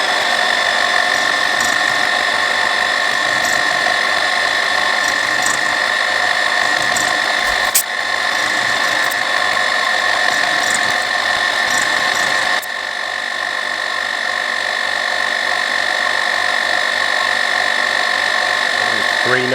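Steady high-pitched whine of a lathe or milling cutter taking a cross pass on a steel valve part for a model steam engine, loud and continuous with a brief break near the middle and a slight drop in level later.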